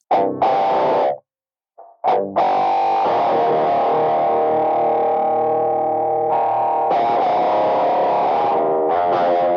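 Electric guitar recorded directly through a Vox ToneLab EX tremolo patch: a few short strums, a brief gap, then long pulsing sustained chords with a wavering, effected tone, loud and unaccompanied.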